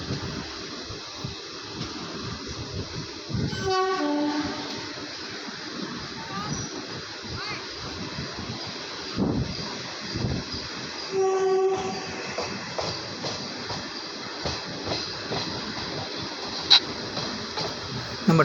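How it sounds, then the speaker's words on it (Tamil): A train rumbles along with steady rolling noise as it runs into Washermanpet railway station in Chennai, and a couple of short horn blasts sound during the run; voices are faintly present. "நம்ம ட்ராவல் பண்ணிகிட்ருக்க ட்ரெயின் பார்த்திங்கன்னா வாஷர்மன்பேட் ரயில்வே ஸ்டேஷனுக்குள்ளே என்ட்ரு ஆகிடுச்சுங்க."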